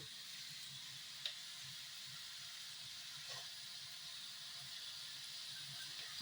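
Poppy seed paste going into a pan where potato and soybean are frying, giving a steady soft hiss and sizzle with one faint clink, quiet and without talk.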